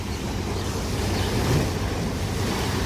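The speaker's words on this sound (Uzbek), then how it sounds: "Ko'rib turganingiz Egey dengizi bo'lib" Aegean Sea waves wash against the coast at Izmir, a constant broad roar of surf mixed with wind buffeting the microphone, steady throughout.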